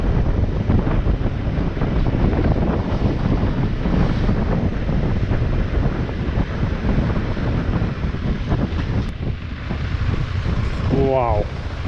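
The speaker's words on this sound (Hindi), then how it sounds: "That's the beach, clean and clear." Strong wind buffets the microphone at a clean, open beach, with a steady broadband rush of wind and surf continuing throughout and a voice speaking faintly beneath it.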